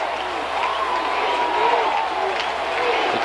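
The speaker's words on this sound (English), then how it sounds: "crowd chanting defense" A high school football crowd at a 1999 PN-G Indians versus Lamarque Cougars game chants and cheers, a distant roaring mass of voices with a rhythmic swell, under close play-by-play commentary.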